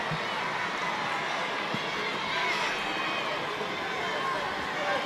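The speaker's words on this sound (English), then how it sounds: "And suddenly the crowd are buoyed up" An under-21 international football crowd at a France versus Germany match rises into a sustained, moderately distant roar of cheering as France win a penalty, steady and broad without sharp peaks, with a commentator speaking over it.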